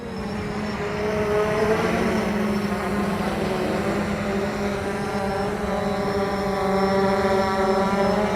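3DR Solo quadcopter drone flying against the wind, its propellers making a steady, loud, buzzing whine with wavering pitch throughout and no voices.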